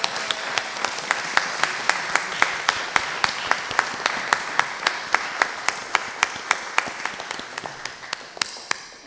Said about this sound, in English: Are we not going to clap? Let's clap.